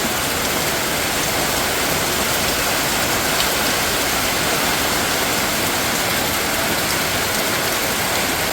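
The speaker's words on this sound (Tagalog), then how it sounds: "Namumuti po ang patak ng ulan." Heavy rain pours steadily, a dense, continuous hiss of drops hitting surfaces nearby, loud and unbroken throughout with no voices.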